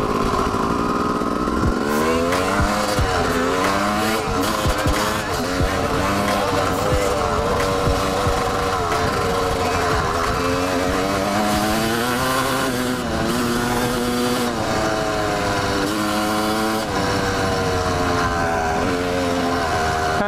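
Honda CR250 two-stroke dirt bike engine revving up and down loudly and close, with repeated rising and falling pitch sweeps over a continuous rough idle.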